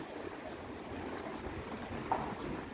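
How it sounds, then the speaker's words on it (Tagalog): Gusty wind roars steadily at an outdoor bus station in front of a mall, a continuous broadband rush with one brief louder buffet near the end. "Mahangin, windy."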